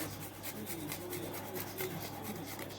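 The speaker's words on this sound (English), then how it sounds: "I'm gonna grate my garlic." Garlic being grated by hand on a kitchen grater while cooking Jamaican-style curry beef, a steady, close scraping rasp with repeated strokes throughout.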